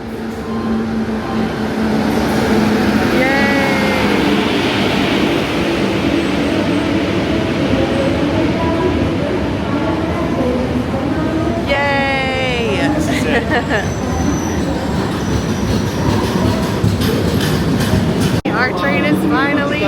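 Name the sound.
Netravati Express train arriving at station in Kerala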